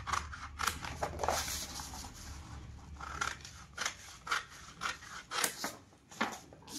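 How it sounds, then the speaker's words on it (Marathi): Scissors cut a blouse sleeve pattern from double-folded paper, with repeated close snips and rustling paper at an uneven rhythm, the cuts coming quicker and more distinct in the second half. "अगोदर आपण मोंड्याची कटिंग करणार आहोत"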